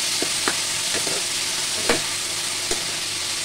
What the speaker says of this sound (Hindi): ये टमाटर भी मैंने डाल दिया है, इनको भी अच्छे से भून लेते हैं।